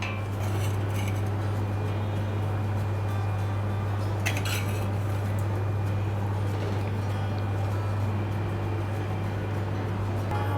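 Prawn curry being served from a pot into a dish, with light clinks and scrapes of a utensil against metal and glass over a constant loud low hum, one sharper clatter in the middle.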